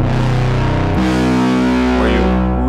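Synth bass in unison mode, stacked voices giving a thick, distorted, chorus-like drone. It plays loud and continuous, shifting pitch once near the start and holding steady afterward, with no talking.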